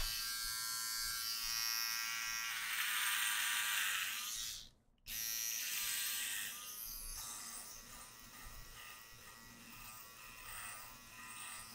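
An electric shaver buzzing continuously through a beard at close range, a steady droning hum that briefly cuts out before resuming a little quieter, with no voices.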